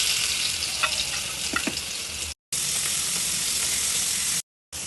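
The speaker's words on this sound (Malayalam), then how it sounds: "പിന്നെ നമുക്ക് മീൻ കൂടി വറുത്തെടുക്കണം" Fish fries in a pan in a home kitchen with a loud, continuous crackling sizzle and occasional sharper pops, broken by two brief silent cuts.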